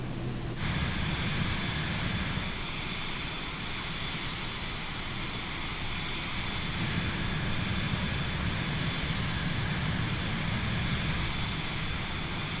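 Steady cabin roar of a Cirrus Vision Jet in flight at night from Honolulu to Hilo, a constant broadband hiss and hum without talk.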